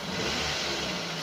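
A 2015 Daihatsu Gran Max 1.3 pickup engine revved hard, a steady loud roar held close by throughout, with no voices.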